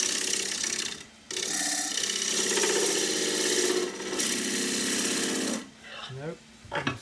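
A scraper cuts crossgrain green ash on a spinning lathe, giving close, loud, buzzing chatter in long continuous passes broken by short pauses, with a brief voice near the end.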